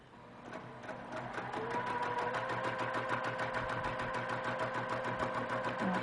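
A sewing machine stitches a quilt block, ramping up after a moment into a fast, steady run of rapid needle strokes with a humming motor, close and continuous.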